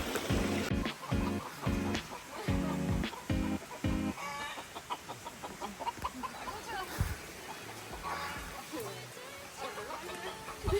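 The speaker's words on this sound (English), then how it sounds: "We've entered the lair of the chickens." Chickens clucking along a hiking trail on O'ahu, close busy clucks and squawks over a continuous outdoor background with voices talking throughout.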